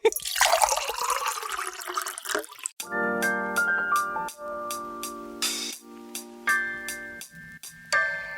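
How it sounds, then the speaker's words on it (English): Liquid coffee poured into a cup, a gurgling, rising fill heard close after a brief noisy start, with a steady trickling stream and faint clinks. "Pour the coffee."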